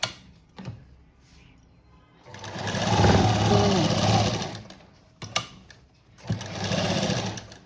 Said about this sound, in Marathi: तर मी सुईच्या बाजूनेच हे शिवून घेणार आहे